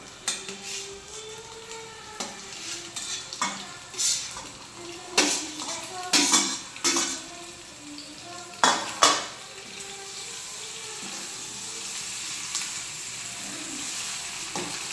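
Eggs stirred into onion and garlic chilli curry in a pan, with repeated spoon scrapes and metal clinks over a low steady sizzle, close and moderately loud, no talking.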